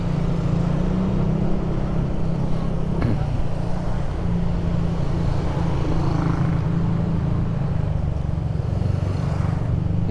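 A Yamaha Aerox scooter follows close behind a motorcycle on a city road in Angeles City, its engine droning steadily under heavy wind rumble from a helmet-mounted microphone.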